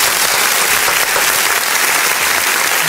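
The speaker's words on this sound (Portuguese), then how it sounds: "Uma salva de palmas aí, ó." Audience applause, loud dense clapping from a crowd that fills the whole stretch without a break.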